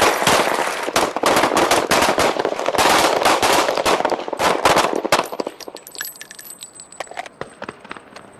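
Rapid volleys of gunfire ring out at a law enforcement shooting range during a sheriff's deputy drill, loud, dense overlapping shots for about five seconds, then thinning to scattered single reports and a faint ringing.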